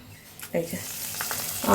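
Curry leaves drop into hot oil, where dried red chili and bay leaf are already frying, in a brief close sizzle that swells sharply into a crackling burst at the end.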